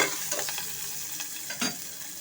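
Ginger frying and being stirred in a pan for a broken wheat khichdi, with a steady close sizzle and a few scraping stir strokes, no voices.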